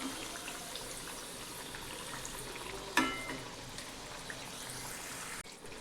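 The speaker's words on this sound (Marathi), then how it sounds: "याला खरपूस होईपर्यंत तळून घ्यायचं चांगलं." Green pea vadas deep frying in hot oil give a steady, even sizzle that runs throughout, with one sharp clink or splash near the middle and no voices.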